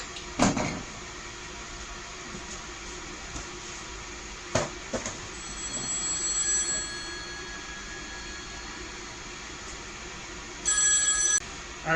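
A telephone gives a short, bright electronic ring near the end, set against a steady low hum and a few scattered knocks and clicks.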